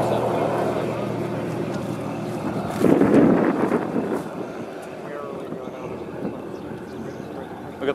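Strong wind roars near an EF-5 wedge tornado at El Reno, Oklahoma, a rough rumbling buffet on the microphone that swells into a heavier gust midway, with indistinct voices underneath.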